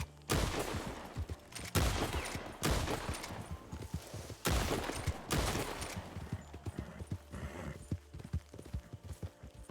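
Repeated gunfire at targets in Red Dead Redemption 2 roleplay, loud sharp shots spaced a second or two apart, some in quick pairs, each with a short echoing tail and no speech over it.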